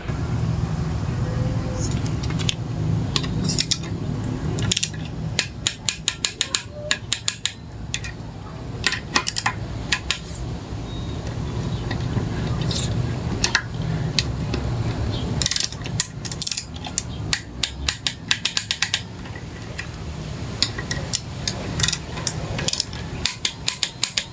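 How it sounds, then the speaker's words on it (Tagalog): A torque wrench tightens the Allen bolts on the stator of a Yamaha Mio Sporty engine with repeated ratcheting clicks and small metallic taps, while a voice talks at times. "agad ko naman itong hinigpitan gamit yung ating torque wrench"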